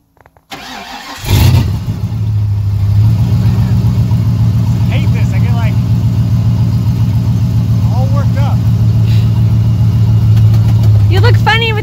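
A prerunner truck engine cranks and catches, then settles into a steady loud idle with a few brief revs rising over it, close to the mic, with people talking faintly in the background.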